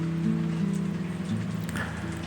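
Steady rain at the start of the new year 2023 falls on a garden of flowering plants, a continuous dense patter on surfaces with a constant low hum beneath, no voices.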